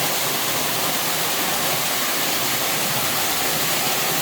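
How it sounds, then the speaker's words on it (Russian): A waterfall roars in a constant, loud, broadband rush, steady and close with no pauses or voices. "Еще раз водопад."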